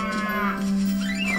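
A cow moos in the Petz Dogz 2 video game, one long steady low-pitched call lasting over a second, loud and clear with no talking.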